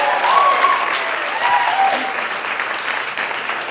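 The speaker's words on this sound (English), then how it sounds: "round of applause?" An audience applauds steadily at a live storytelling event celebrating a speaker's one-month anniversary of finishing breast cancer treatment, with a few faint cheers or whoops rising briefly over dense, continuous clapping.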